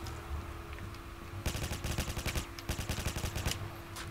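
Commando gun firing in Black Ops 3 Zombies, a rapid automatic burst of close, sharp shots in quick rhythm after a quieter lead-in, with no speech.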